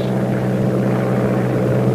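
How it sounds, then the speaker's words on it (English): Steady, loud droning of a propeller aircraft engine in level flight, holding an even pitch, a continuous low hum with no pauses or changes. "When you're in level flight, it'll probably sound something like this."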